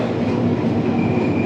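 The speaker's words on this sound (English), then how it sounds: "This train is a little bit quieter than the Circle and District lines." A London Underground train runs along the track with a loud, close, continuous rumble and rattle from inside the carriage, with no talk over it.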